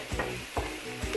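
Sliced onions sautéing in a pan for stuffed chapati filling give a soft steady sizzle, with a few scraping stirs of a spatula against the pan, close and fairly quiet.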